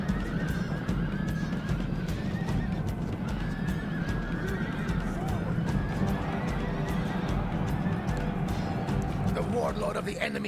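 Cavalry horses charge into battle in Rome: Total War, a dense roar of whinnying and neighing over rumbling hoofbeats, with voices shouting amid the steady battle din.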